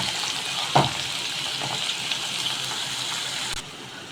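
Onions frying in a pan, a steady hissing sizzle with a sharp knock early on, close and continuous before the level drops near the end, with no talking.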